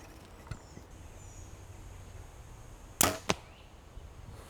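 A bow shot during 20-yard target practice with Firenock Aerobump nocks: a soft release snap, then a sharp, loud impact as the arrow strikes the target, with a second smaller hit just after, against quiet outdoor ambience.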